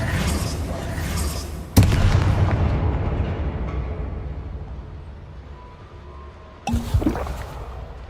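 Two heavy booms from the Confringo blasting spell in Hogwarts Legacy, each a sharp explosive crack that fades into a rumbling tail, with a quieter stretch between them.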